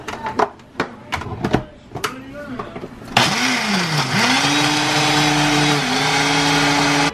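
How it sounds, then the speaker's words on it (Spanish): A countertop blender starts abruptly after a few seconds of talk and handling clatter, then whirs loud and steady close by while blending an experimental drink, its motor pitch sagging and recovering under the load. "Un experimento conmigo. Lo vamos a licuar."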